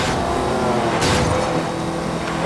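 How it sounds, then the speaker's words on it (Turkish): A Lamborghini's engine roars steadily in Need for Speed Most Wanted 2012, a loud continuous drone with a brief surge of revving partway through. "Baksana Lambo'nun sesi nasıl geliyor."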